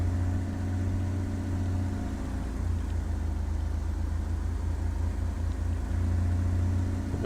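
A single-engine Cessna in Flight Simulator 2002 drones steadily on its takeoff run, a constant low engine hum that swells slightly toward the end, with no talking.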